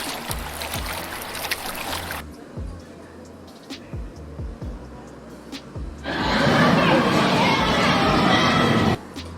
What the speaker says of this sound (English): That's mad loud. Water sounds.